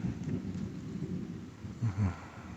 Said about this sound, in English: listening to the thunder and the lightning and the rain